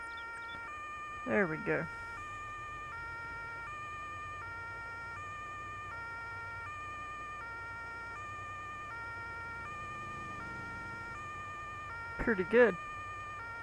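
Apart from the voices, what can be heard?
fire truck siren in Farming Simulator 22 video game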